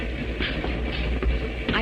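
Train wheels rumble and clatter over rails in a radio drama sound effect, a steady low roll with faint rhythmic clicks, close and continuous throughout.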